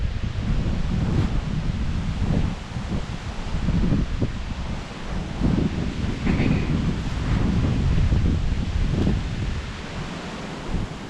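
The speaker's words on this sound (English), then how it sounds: "That wind is about to blow us away today" Strong outdoor wind roars steadily into the microphone in a wooded camp setting, with gusty buffeting and rustling throughout, loud and continuous with no speech heard.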